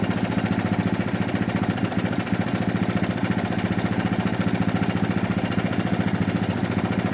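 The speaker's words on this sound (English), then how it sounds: "The engine running." A 1983 Honda ATC 200 three-wheeler engine idles steadily during a carburetor idle-screw adjustment, a loud, continuous rapid chugging pulse that holds an even rhythm throughout, up close with no talk.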